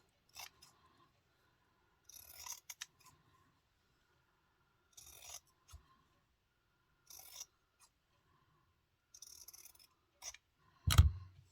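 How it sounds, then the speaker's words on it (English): Scissors snip through fabric around an English paper piecing template in short clustered bursts of cutting separated by quiet pauses, ending with a louder thump, close and with no talking. "So I'm going to cut out around that now, but leaving a 1/4 inch border all the way around."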